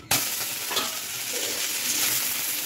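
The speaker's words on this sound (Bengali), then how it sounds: "এবার আমি ওই কড়াইয়ের তেলটুকুর মধ্যে এখন আমি পাতাগুলোকে হালকা ভেজে নেব" Curry leaves lightly frying in a little oil in a wok, already holding cumin, garlic and green chillies, give a steady close sizzle with occasional stirring scrapes, continuous and alone for under three seconds.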